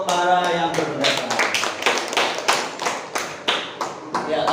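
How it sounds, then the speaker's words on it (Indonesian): A class of students claps for classmates who shared opinions during an Indonesian poetry lesson, a run of sharp, fairly close claps with a steady rhythm that thins out toward the end. "tepuk tangan untuk para yang berpendapat"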